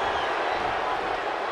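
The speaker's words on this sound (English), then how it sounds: "Listen to this South Carolina crowd." Arena crowd at a wrestling event in South Carolina, a dense wall of cheering and roaring that holds at a steady, loud level for the whole moment.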